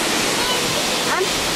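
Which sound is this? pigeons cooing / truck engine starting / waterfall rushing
waterfall rushing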